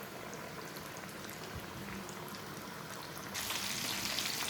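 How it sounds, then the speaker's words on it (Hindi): Chicken pieces for a zinger burger are lowered into hot oil, two at a time. A steady, dense bubbling sizzle runs throughout and grows louder and brighter near the end, with no talking. "तो ऑयल हमारा गर्म हो चुका है, तो अब हम पीस इसके अंदर डालते हैं।"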